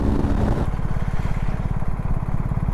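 A BMW R 1250 GS Adventure (GSA 1250) motorcycle engine runs steadily and loudly close by, a low, even pulsing throb that holds constant throughout, with no voices.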